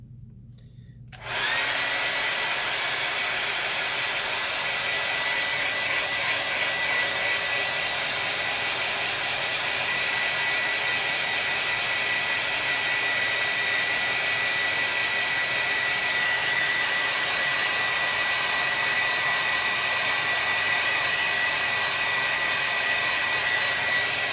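A hair dryer blowing on a watercolor painting, switched on after a brief pause and then running loud and steady without a break.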